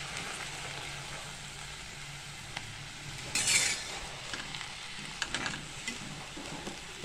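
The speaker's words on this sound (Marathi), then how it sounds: "हे पहा आपण आता ही मेथी चांगली परतून घेऊया" Fenugreek leaves sautéing in oil with garlic and chili, a soft steady sizzle with occasional clinks and scrapes of stirring.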